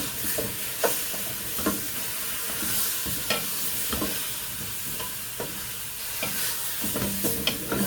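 Spices being stirred into meat and black-eyed beans frying in a pot, with a steady close sizzle broken by repeated scraping, clattering stirs at irregular intervals, no voices.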